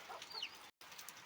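Wet chickens cluck in the rain at a Nepali village, with a few soft clucks and short calls over a steady hiss of rainfall, then a brief gap before the rain noise resumes.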